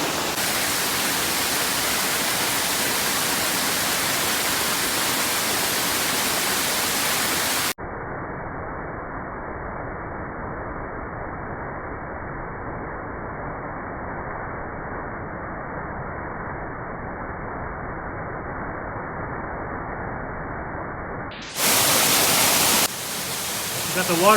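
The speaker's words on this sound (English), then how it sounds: "Got the waterfall going, guys." Tangerine Falls waterfall on a hike, a continuous broad rushing roar that stays steady throughout, loud and close, with a brief louder burst near the end.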